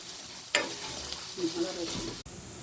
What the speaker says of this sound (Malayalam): എന്നിട്ട് ചെറിയ തീയിൽ നന്നായി വഴറ്റിയെടുക്കുക.